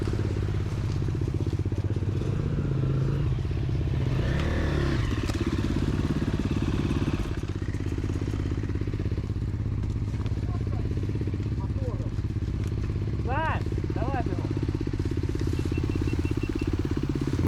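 Enduro motorcycle at a competition, its engine running and rumbling nearby under steady ongoing talk, with occasional clatter and faint higher whines as the bike moves off.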